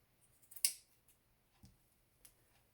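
Scissors snip once cleanly through a bundle of yarn while trimming the ends of a handmade yarn doll, a single crisp cut close by, followed by a couple of faint ticks in an otherwise quiet room.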